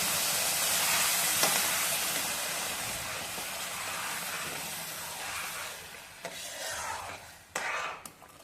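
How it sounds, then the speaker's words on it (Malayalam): Hot water hits a hot pan of rava halwa mixture and sizzles loudly in a broad hiss that slowly fades, followed by a few scraping stirs near the end. "ഇനി നമുക്ക് അതിൻ്റെ അകത്തോട്ട് ചൂടുവെള്ളം ചേർക്കാം."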